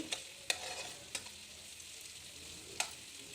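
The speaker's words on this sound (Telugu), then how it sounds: "ఈ రెండింటిని వేసి బాగా కలిపేసి ఇంకాసేపు ఈ ఆనియన్స్ అన్నిటిని వేయించుకోవాలి" Onions fry with salt and turmeric in a pan for sabudana upma, giving a quiet, steady sizzle broken by a few sharp scraping stirs, close by with no voices.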